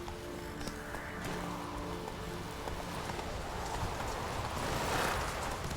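Roach, the horse in The Witcher 3, gallops with a steady clip-clop of hooves that builds slightly louder toward the end, over a constant game backdrop and no speech.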